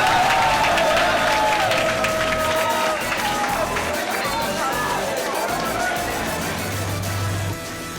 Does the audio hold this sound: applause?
yes